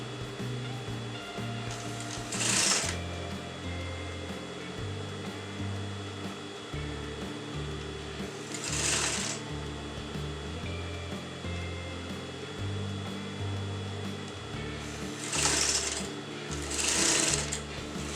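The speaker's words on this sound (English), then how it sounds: "I'm sewing this together" A sewing machine stitches fabric and interfacing together for a wedding designer blouse, running in a steady continuous drone with a few brief louder bursts of higher noise.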